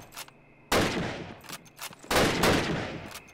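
Gunfire in the World War II shooter Call of Duty: United Offensive, with two loud sustained bursts of rapid automatic fire and a few scattered shots between them, heard close with no talk.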